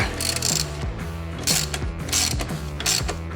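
Bolts being tightened with a ratchet on the rear suspension of a Voge 300 Rally motorcycle: rapid, repeated clicking ratchet strokes in several quick bursts, close and fairly loud, with no talking.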